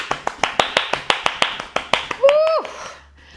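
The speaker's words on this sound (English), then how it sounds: "keep the feet going and clap the hands at the same time" Feet tap on the floor with hand claps in a steady, regular rhythm during a seated chair yoga session, about a dozen sharp close hits, ending with a brief vocal whoop.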